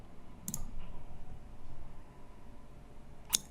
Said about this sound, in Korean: 그리고 제출 버튼을 누를게요